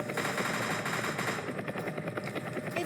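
The MM20 gun in the video game Entry Point fires a long continuous automatic burst, a dense rapid rattle of shots that stays loud and steady with no talk over it.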